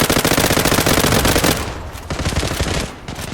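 Rapid automatic gunfire from a weapon in the online shooter game Zula, a dense, loud burst of repeated shots that thins out into scattered, quieter bursts toward the end, with no talking.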